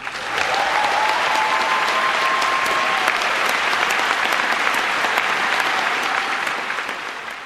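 A Boston labor crowd applauding the President's speech, sustained dense clapping that holds steady for several seconds before tapering off.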